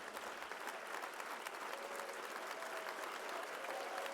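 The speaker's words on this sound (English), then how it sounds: "Can you guys stand up for an applause?" An audience applauds the staff at the Boston Irish Honors awards luncheon in a Seaport Hotel room in Boston, a dense, even roar of many hands clapping at a constant level, faint and somewhat distant throughout.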